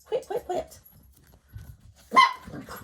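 Dogs bark indoors in short sharp bursts, a quick run of barks at the start and a louder one near the end, with quieter whimpers and shuffling between.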